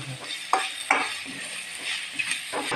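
Sliced onion sautéing with salt in a hot pan, a continuous soft sizzle broken by a few sharp scrapes and knocks of a spatula against the metal, close and with no voices.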